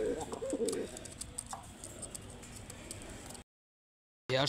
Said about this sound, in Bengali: এবার দেখাবো একটা লাল গলা কবুতর